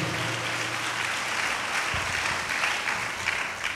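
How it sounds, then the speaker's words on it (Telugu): A church congregation claps together loudly and steadily in praise, a thick continuous wash of many hands filling the hall without pause. "అందరూ చప్పట్లు కొడుతూ దేవుడు మహిమపడదాం గట్టిగా"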